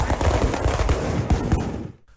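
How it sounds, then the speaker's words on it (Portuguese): Fireworks set off as weapons during a street clash between rival Atlético and Coritiba football fans near a bus terminal in Pinhais, Curitiba: dense, rapid crackling bursts and pops fire continuously for about two seconds, then cut off. "Fogos de artifício foram usados como armas e as ruas viraram ringues."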